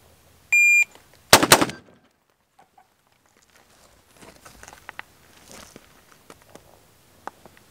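Two rifle shots fired about a fifth of a second apart at a range, a sharp loud double report followed by faint clatter and quieter shuffling sounds.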